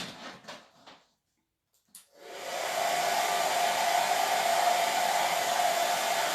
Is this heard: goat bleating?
no